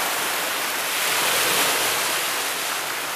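Continuous broad wash of lake waves breaking on a shore at Sleeping Giant Park, northwestern Ontario, steady and fairly loud with gentle swells in intensity, no voices.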